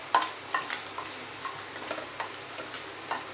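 Dried red chillies frying lightly in hot sesame oil give a soft, steady sizzle with sparse clicks and ticks from stirring. The sound is fairly quiet and close, with no voices.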